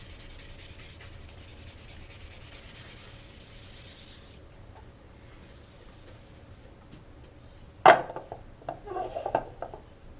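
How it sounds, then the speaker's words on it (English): Sandpaper rubs over hardened filler stick on a wooden gun stock to level the high spots. A steady soft scratching runs through the first four seconds, and a sharp knock and clatter follow near the end. "Then we're going to sand it down our high spots."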